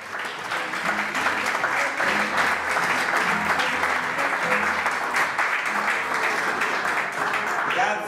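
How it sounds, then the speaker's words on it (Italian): Sustained audience applause fills a hall after a couple's jive dance performance at a Latin American dance show evening, steady and dense throughout with faint voices mixed in. "scroscianti applausi"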